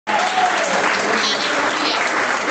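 Dense, steady clapping from a church congregation during a Portuguese-language sermon, loud and continuous throughout, with a faint voice rising briefly at the start.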